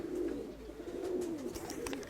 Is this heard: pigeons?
yes